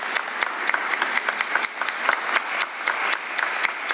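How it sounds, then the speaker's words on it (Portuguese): A church congregation at an evening Mass for the triduum of Saint Peter bursts into applause for a priest. The clapping is dense, lively and close, with no talk over it. "Uma salva de palmas ao Padre Jair, por ter aceitado nosso convite."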